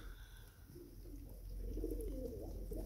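Pigeons coo softly outdoors, low throaty calls rising and swelling in the second half over a steady background hum, fairly faint and at a middle distance.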